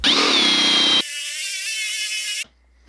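A drill turning a Forstner bit bores a wide, shallow hole into a 2x4 board. The motor whines loudly and close, then a steadier, rough cutting roar runs for about a second and a half before stopping abruptly.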